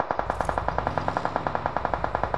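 Sustained automatic gunfire in PUBG Mobile, a rapid, evenly spaced burst of about twenty-five loud shots close by, with no talking over it.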